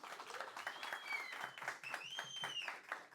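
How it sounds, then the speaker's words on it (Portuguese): An audience claps for a guest at a talk event, a moderate patter of hands heard at some distance, with a speaking voice running over the clapping throughout. "Salva de palmas para Mariana Balassi."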